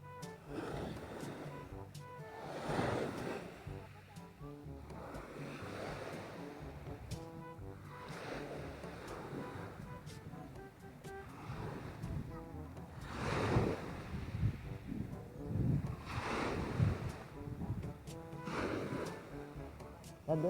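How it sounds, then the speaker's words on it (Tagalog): Ocean waves roll steadily onto a sandy beach near a rock formation at a Lobo, Batangas beach resort, a continuous surging wash with periodic swells and some wind noise, no talking. "Yeah, makuha ka ng alon."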